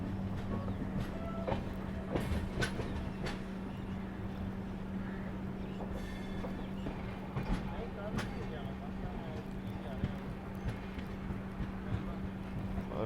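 An Amritsar–Mumbai Express train rolls along the main line into Rajpura Junction, a steady low rumble of wheels on rails with scattered clanks and clicks throughout, heard from inside the carriage beneath a constant hum, with voices faint in the background.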